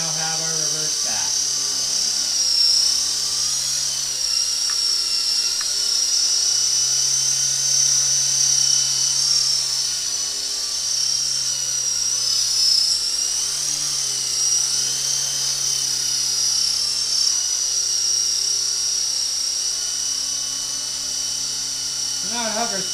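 Interceptor 052 RC helicopter hovering steadily, a continuous loud high-pitched motor whine with a low rotor buzz that slightly rises and falls throughout, close by.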